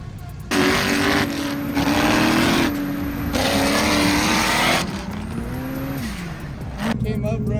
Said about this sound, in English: here comes the beast, the racer, sand car, Sean's.